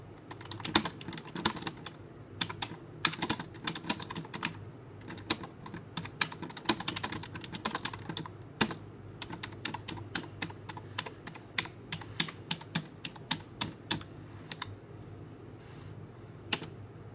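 Rapid clicking keystrokes on a computer keyboard that has just been washed in a sink, a close, continuous run of plastic taps in uneven bursts lasting well over fifteen seconds, with a low steady hum beneath.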